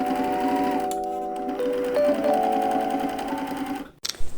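A sewing machine stitches a folded shirt seam in a steady whirring run with shifting motor pitch, close and clear, stopping abruptly near the end with a brief clatter.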